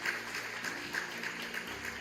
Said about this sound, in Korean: 다시 한번 이 예일교회 역사를 시작하신 강경원 목사님께 뜨거운 박수 부탁드립니다.